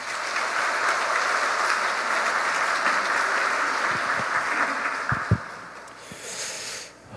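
Audience applause welcoming a university professor to a lecture at a men's retreat, steady dense clapping throughout that fades slightly near the end.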